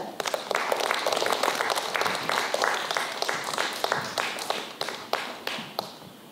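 Audience applause welcomes a culture critic to the stage for a lecture on life philosophy and art at a poetry recital event in Chuncheon, a steady roomful of clapping sustained for several seconds.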